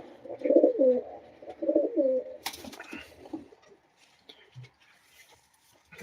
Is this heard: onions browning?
no